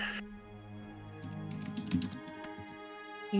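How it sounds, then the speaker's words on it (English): Fingers type on a computer keyboard, a quick run of light clicking keystrokes with a heavier space-bar thump, close by and fairly quiet, with no talking. "I hear the space bar."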